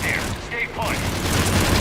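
Rifle gunfire in Mass Effect 3 rattles as a dense, continuous fusillade of sci-fi shots and impacts, loud and busy, with a few brief tonal game effects mixed in.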